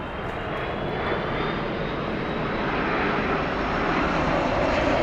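A Delta Airbus A330-200 arriving at Frankfurt Airport produces a strong, sustained jet roar with a thin high whine, growing slightly louder as it nears, with no one talking.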